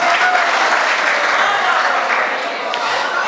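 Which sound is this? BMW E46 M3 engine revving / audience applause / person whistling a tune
audience applause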